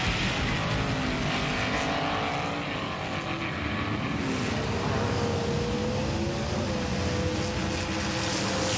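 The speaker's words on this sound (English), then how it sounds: "look at the pace on both these cars, and that bounce back there by Gonzo" Small electric cars whine continuously at high speed, motors rising and falling in pitch as they race, loud and close throughout.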